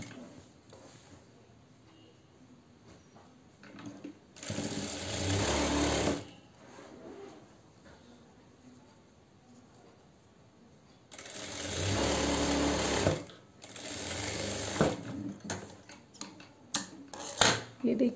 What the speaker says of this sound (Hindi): दूसरे साइड भी इसी तरीके से करनी है कि थोड़ा फोल्ड करना है फिर सिल लेना है